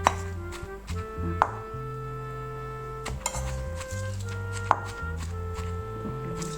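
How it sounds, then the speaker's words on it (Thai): Dull wooden thumps of a small mortar pounding hed lom mushrooms together with chilies, a few spaced strikes at an uneven pace over steady background music. "จะเอาเห็ดที่เราโขกแล้วมาตำรวมกับพริกนะคะ ผสมกันเลย"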